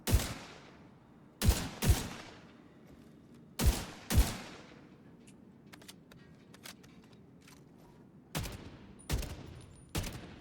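Gunfire in The Division 2 rings out as sharp, loud single shots, mostly in pairs, separated by quieter stretches with faint game ambience between them.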